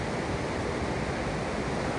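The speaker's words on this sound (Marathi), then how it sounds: "त्याच्या अवतीभोवती ही नदी वाहते" A river flows through Aru Valley near Pahalgam in Kashmir, giving a steady, dense broadband rush of water that stays even and loud throughout with no voices.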